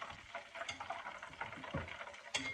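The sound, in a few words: chicken gizzards frying in oil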